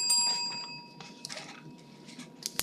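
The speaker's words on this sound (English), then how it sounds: "the bell will ring twice" A debate timing bell rings during a university parliamentary debate round, with two or three bright, clear dings over a quiet room and faint background noise, the last strike close and distinct.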